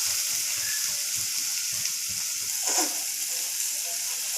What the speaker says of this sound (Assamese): এইখিনিও মই 2 মিনিটমান সময় বিলাহীখিনি কোমল হোৱালৈকে ভাজি ল'ম।